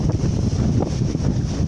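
Strong wind buffets the microphone aboard a sailboat at night, with one reef in the mainsail and genoa in just over 14 knots, a loud continuous rush with faint water wash beneath.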